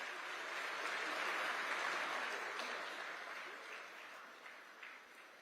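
Steady applause from an audience welcoming the chief minister at the Kushinagar airport inauguration, a dense wash of many hands clapping at a distance, fairly quiet and tapering slightly toward the end.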